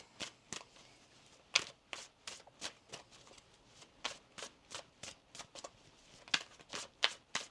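A deck of tarot cards is shuffled by hand in a steady run of crisp, close flicks and riffles, each soft burst evenly spaced, with no talking.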